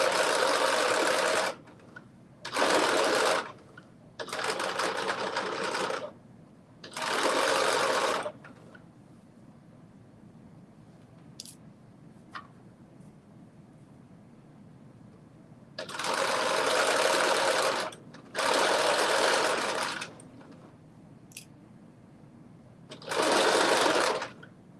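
Sewing machine stitching in several bursts of a few seconds each, a fast whirring buzz that starts and stops with quiet pauses between, close and fairly loud, with faint handling clicks in the gaps.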